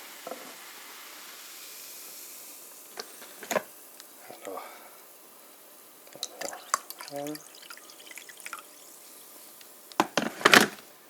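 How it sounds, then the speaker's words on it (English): Pineapple coconut sparkling water pours and splashes into a glass in short bursts, with soft fizzing and clinks, ending in a louder splashy pour near the end. "you open up this pineapple coconut sparkling water, and you pour it into this glass"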